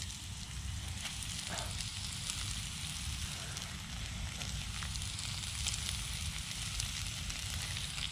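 Continuous sizzling and crackling of flathead fish frying in hot oil, steady and moderately quiet with a dense hiss throughout.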